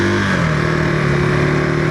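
A KTM 390 Adventure R motorcycle engine drones steadily while riding, a loud, even single-cylinder hum with a slight pitch drop partway through, heavy wind rumble underneath and no speech.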